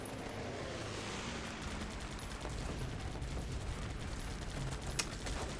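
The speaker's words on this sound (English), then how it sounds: "we'll drop these bombs" Bombs dropped on a bombing run in the video game Guns Up! set off a dense, continuous barrage of explosions and gunfire-like crackle, steady and moderately loud for several seconds, with a sharper pop near the end.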